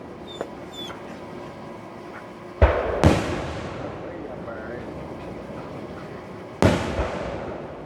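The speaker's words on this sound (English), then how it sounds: "I'm going to share with you a few minutes of the fireworks that we saw from our back deck." Fireworks on the Fourth of July heard from a back deck, with two sharp booming bursts that crackle and fade, over a steady outdoor background.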